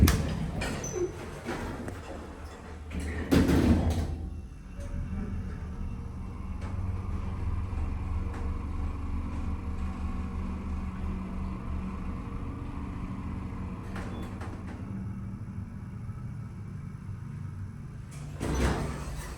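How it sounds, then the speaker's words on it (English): Montgomery hydraulic elevator at Terminal C of DFW International Airport in Dallas: doors slide with a thump near the start and again at the end, while a steady low motor hum runs throughout, slightly rough, with no talking. "I heard the motor well the first time, but during the second, it sounded kind of rough"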